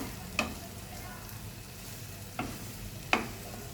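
Radish greens sabji being stirred in a pan, a soft low sizzle with three distinct scraping clinks of a spoon against the metal, quiet and close.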